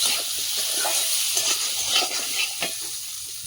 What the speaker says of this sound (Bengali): এবার দিয়ে দেবো কাশ্মীরি লঙ্কা, কচুটা ভালো করে ভেজে নেবো